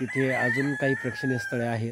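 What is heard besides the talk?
rooster crowing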